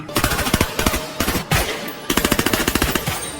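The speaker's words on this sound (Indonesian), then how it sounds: "membalas serangan tersebut dengan tembakan asal-asalan" Gunfire from soldiers in a war film, several bursts of rapid machine-gun shots separated by short pauses, loud and close, ending in a long rattling burst.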